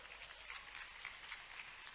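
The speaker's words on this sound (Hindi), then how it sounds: "ताली बजाना तो जोर से बजाओ जरा" Crowd applause at an outdoor rally held in memory of Tantya Mama in Indore, a dense continuous patter of many hands, fairly faint and distant with no voices over it.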